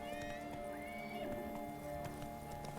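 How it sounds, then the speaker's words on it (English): A horse in Witcher 3 gallops with quick clip-clopping hooves and a brief whinny, set against a steady game soundtrack of sustained tones. "Uh-oh, a horse is running."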